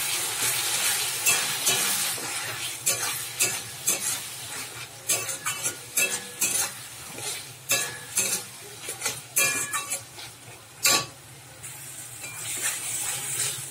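A spice paste of coriander and chilli powder with tomatoes sizzles in oil while a spatula scrapes the pan in a quick, repeated rhythm, loud and close with no talking.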